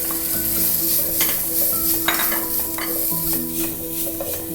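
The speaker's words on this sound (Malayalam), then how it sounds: "സ്ക്വിഡ് ചേർത്ത് കൊടുക്കാം" Squid pieces go into a hot pan of sizzling vegetables for a coconut-milk seafood pasta, giving a steady close frying hiss with scattered clinks and stirring scrapes, and nobody speaks.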